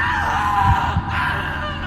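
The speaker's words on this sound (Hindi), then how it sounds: "उसके गले से एक विभत्स चीख निकल पड़ी।" A horrified scream in a Hindi horror story, a short harsh strained cry bursting out loud and close over a dark droning backdrop, then cutting off abruptly.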